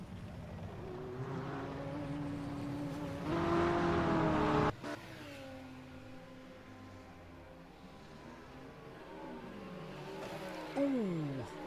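A McLaren 720 race car engine in a racing video game drones steadily with shifting pitch, swelling louder around a gear change midway and rising again near the end, with no one talking over it.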